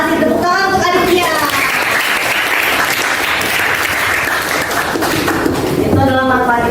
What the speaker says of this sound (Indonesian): tepuk tangan untuk Aditya